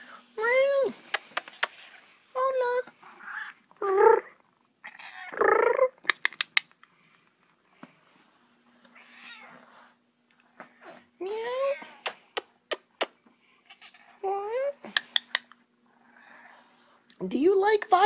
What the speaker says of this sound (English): Look, this violin shop's got kitties.